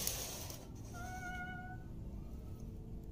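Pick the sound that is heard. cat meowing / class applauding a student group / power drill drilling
cat meowing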